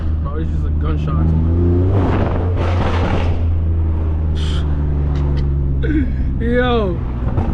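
A 650 horsepower F80 M3 with straight pipes revs hard up close, its exhaust note climbing and dropping across quick gear changes, punctuated by brief crackles, while voices chatter over it.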